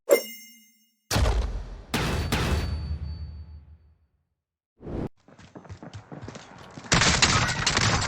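Shotgun fire in the Call of Duty Warzone video game, a few heavy booming blasts separated by pauses, loud and close, with clattering game sounds and a burst of noisy action near the end.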